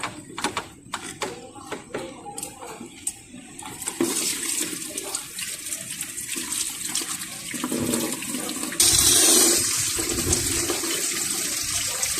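Water rushes continuously through a Mazda radiator with no thermostat as it is flushed and drained, starting with scattered splashes and knocks, then settling into a steady gushing that grows louder near the end.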